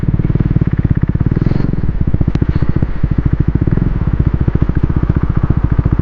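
A motorcycle engine chugs steadily nearby while riding toward a lake in the countryside, a loud rhythmic low thumping pulse with faint clatter over the whole stretch.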